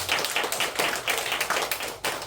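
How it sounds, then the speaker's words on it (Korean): A church congregation gives a round of applause for the True Parents, rhythmic clapping pulses repeating steadily, moderately quiet and close. "우리 참 부모님께 영광의 큰 박수 한번 올려드렸으면 좋겠습니다"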